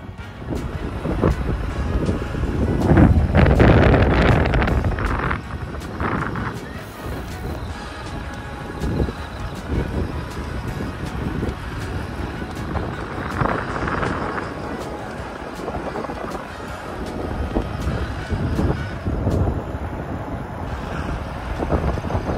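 Wind buffets the microphone in rough, rumbling gusts, loudest early on, with faint traffic-like noise underneath and no clear talk.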